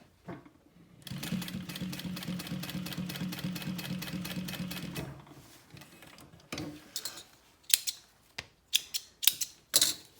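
A sewing machine stitches a small wallet in one steady four-second run, followed by scattered clicks, handling noises and short mechanical bursts as the work is adjusted.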